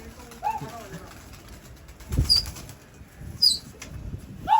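Pigeons burst into flight with bursts of flapping wings, alongside a few soft chirps and coos, while someone talks nearby.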